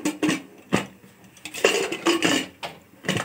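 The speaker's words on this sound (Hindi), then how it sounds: "अब मैं अपने कुकर को बंद करूँगी।" Metal lid of a pressure cooker being closed while cooking matar pulao, a string of sharp clanks and scrapes in uneven bursts, close and clear with no talk.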